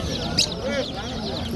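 Poultry market in Mingbuloq where young chicks are sold: clucking and chirping birds in a busy crowd, close and fairly loud, with voices mixed into the noise.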